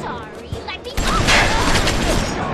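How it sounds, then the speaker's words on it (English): A machine gun in BioShock firing a dense, continuous burst that starts abruptly and carries on to the end, with someone talking over it. "The machine gun has a heavy recoil and low accuracy, but it also has a high rate of fire."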